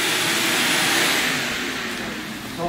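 A vacuum roars loud and close, cleaning the inside of a car with a broad steady suction hiss that eases slightly toward the end.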